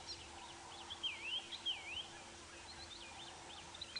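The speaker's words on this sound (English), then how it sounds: "Cape turtle doves, white-browed robin chats." Faint birdsong from Cape turtle doves and white-browed robin-chats drifts in from a distance at sunrise on safari, with whistled, warbling phrases over a low steady hum and background hiss.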